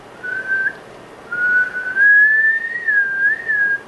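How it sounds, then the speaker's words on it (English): A single person whistling a clear, steady tone, a short note, a pause, then a longer gliding phrase that wavers gently in pitch, close and alone. "So if I whistle,"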